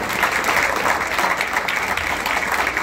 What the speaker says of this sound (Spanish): Otro aplauso para Giovanni, por favor.